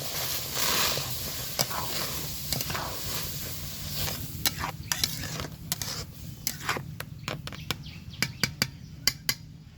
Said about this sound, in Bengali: দেখতেই পাচ্ছেন কিভাবে ফুটছে তালের মাড়ি চিনি একসঙ্গে দিয়ে দিয়েছি